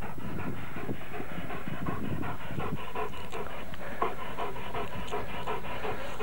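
A dog panting rapidly and steadily during obedience training, close and continuous in rhythmic breaths with no voices over it.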